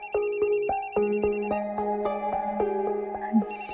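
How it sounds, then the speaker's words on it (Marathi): A mobile phone plays a loud, steady musical ringtone, repeating a stepped melody in an even rhythm for several seconds, close and alone with no talking. "जेसीचा फोन खूप दिवसांनी आलाय."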